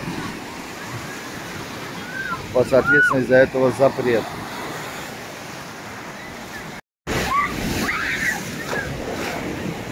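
Sea waves wash onto a beach at Vityazevo on the Black Sea coast, a steady broadband surf rush with wind across the microphone, continuing under a stretch of nearby speech and briefly cutting out once.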